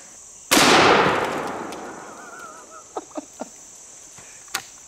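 A 10 gauge shotgun fires once at an eggplant target outdoors, a sharp loud blast whose roar decays over about a second and a half, followed by a few faint thuds and ticks against steady insect chirping.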